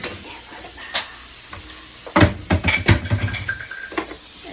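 Meat browns in a hot pan, sizzling in uneven bursts, with a spatula clattering and scraping as it is stirred. The sound is close and fairly loud, with a quieter stretch before the busiest stirring.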